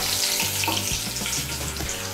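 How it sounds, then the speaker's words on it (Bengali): Chopped onion frying in oil with green chillies for a Bengali katla fish curry, giving a steady, close, broadband sizzle with a few soft stirring knocks throughout. "পেঁয়াজ কুচিটাকে লাল করে ভেজে নেব।"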